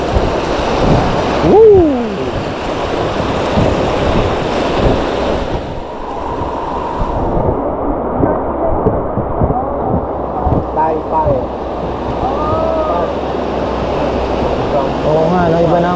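Whitewater rapids on a river at Cagayan de Oro during a rafting run, a steady rushing roar of churning water with wind buffeting the microphone, while rafters shout and talk over it.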